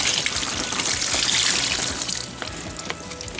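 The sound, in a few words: pouring turkey brine liquid into a pitcher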